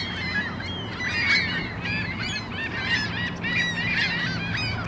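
A flock of geese honks nonstop outside a Walmart in Toronto among gulls, overlapping calls rising and falling in a dense, lively chorus.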